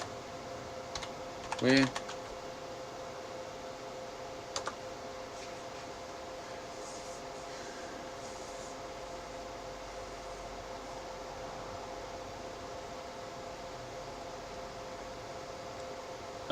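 Fingers type a web search on a computer keyboard in a few brief, faint bursts of clicks over a steady fan-like hum, while a voice talks quietly.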